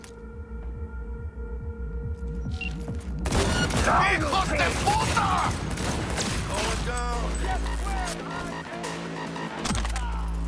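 Gunfire rings out in the video game Cyberpunk 2077: a loud cluster of shots and impacts bursts out midway over droning game tones and effects, then fades back into the humming background.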